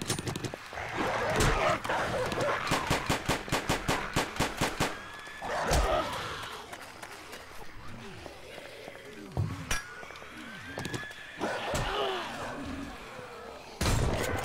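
Gunfire in the zombie survival video game 7 Days to Die, a fast burst of rapid shots early on followed by scattered single shots and clanks, loud and close, with voices talking in between.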